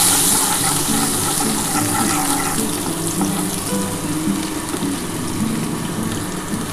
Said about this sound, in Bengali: যে তেলটা আছে এই তেলের মধ্যেই আমি এবার পেঁয়াজটা দিয়ে দিচ্ছি।